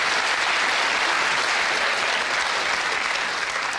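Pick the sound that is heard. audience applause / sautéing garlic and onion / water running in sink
audience applause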